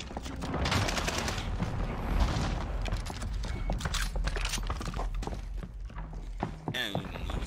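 Rapid bursts of gunfire in a video game fire in quick succession, dense and clattering, while someone talks over the shooting.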